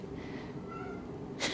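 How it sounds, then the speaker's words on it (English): A house cat gives a faint, drawn-out meow indoors, soft and a little distant against quiet room tone, ending with a brief breathy sound. "And now the other one's meowing."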